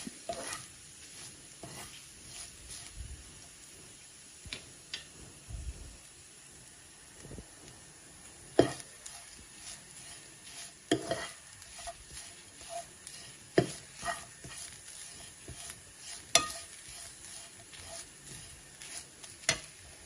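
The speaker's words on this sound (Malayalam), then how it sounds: "അപ്പം ലോ ഫ്ലെയിമിലിട്ടിട്ട് നന്നായിട്ട് ഗോൾഡൻ കളറാവുന്നത് വരെ നമുക്ക് നല്ല വറുത്തെടുക്കാം" Grated coconut roasts in a pan over a low flame, giving a steady faint sizzle broken by sharp scraping clicks as it is stirred, with no voices.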